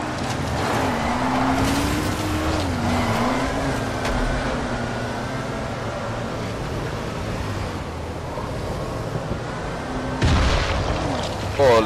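A car in the video game Dying Light drives fast, with a continuous engine roar that rises and falls over rumbling noise and game effects. The clip ends with a sharper burst, and a person talks over the engine throughout.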